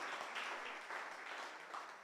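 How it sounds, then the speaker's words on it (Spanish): Faint applause at a church service, a soft patter of many hands clapping steadily at a distance for a couple of seconds. "Ese aplauso como que sí."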